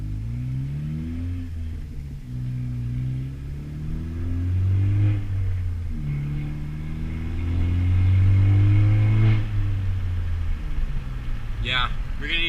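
A 10th-generation Honda Civic Si with a catless downpipe and loud exhaust rumbles and revs steadily, swelling louder in the middle and again near the end, with people talking over it close by.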